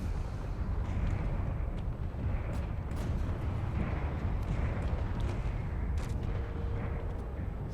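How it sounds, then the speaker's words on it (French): In the game Space Engineers, weapons keep firing through a steady low rumble, with repeated muffled booms and sharper cracks scattered across the battle and no voices. "Alors il y a les armes aussi qui tirent en dessous parce que c'est le jeu"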